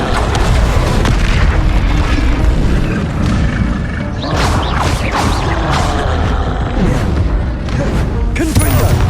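Rapid explosive spell blasts from Confringo and Incendio in Hogwarts Legacy pile up as loud, continuous booms and crashes, with bursts of fiery impacts throughout a chaotic battle.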